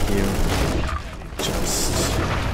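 Gunfire from a sniper rifle's alternate gun in the video game Warhammer 40,000: Inquisitor - Martyr, dense booming shots and blasts packed throughout with a brief lull midway, loud and continuous with game effects layered over.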